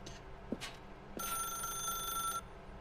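An old-style telephone bell in The Stanley Parable video game rings once in a sustained metallic burst of a bit over a second, after a couple of soft clicks, with no talk over it.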